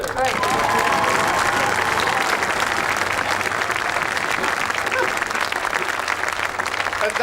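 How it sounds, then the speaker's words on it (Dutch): An open-air theatre audience in Obbicht breaks into dense, sustained applause after a 1999 play, a steady roar of many hands clapping at once for several seconds, loud and even throughout. "Een daverend applaus"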